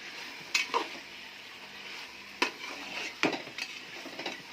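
Chicken for biryani frying in separated oil, stirred with a metal spoon that scrapes and clinks against the pan in a few sharp bursts over a soft, constant sizzle.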